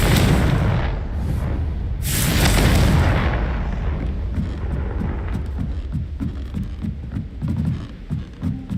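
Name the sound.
Confringo explosion spell in Hogwarts video game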